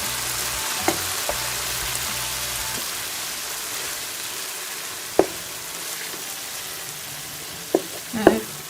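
Eggs going into a pan of fried tomato masala for egg bhurji produce a steady soft sizzle like light rain. A few sharp utensil clicks and taps sound near the end.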